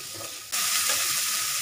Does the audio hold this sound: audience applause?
no